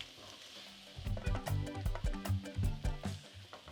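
Spices toasting in a pan for a vegetarian black-eyed peas dish, starting after a quiet second as a steady close sizzle with a series of sharp crackles and pops, with no talking.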